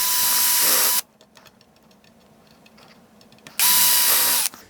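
A power drill drives into wood for a model railroad baseboard in two loud, steady bursts of about a second each, with a quiet pause between them.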